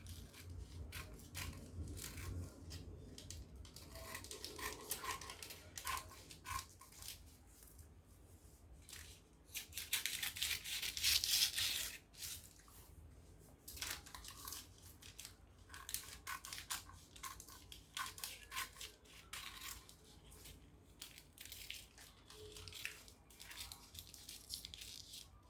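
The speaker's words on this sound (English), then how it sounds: "So cutting it out now." Scissors cutting through fabric pieces for a bustier gown, with repeated soft snips and rustling cloth, close but faint, including a brief louder crisp stretch midway.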